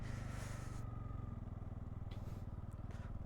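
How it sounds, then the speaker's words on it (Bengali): Motorcycles ride one after another on a mountain road from Rangpo toward Zuluk in East Sikkim, with a steady, low, pulsing engine drone that carries on throughout at moderate, fairly distant loudness. "আমাদের বাইক পরপর যাচ্ছে সামনের দিকে"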